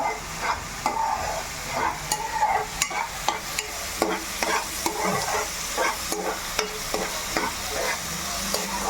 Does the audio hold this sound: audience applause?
no